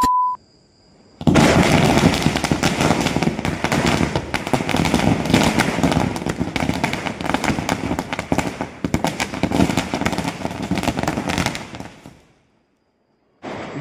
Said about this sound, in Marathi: बिल्डिंगचा सगळ्यात पहिला फटाका मी उडवलाय